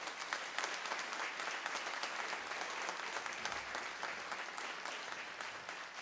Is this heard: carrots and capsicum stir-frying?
no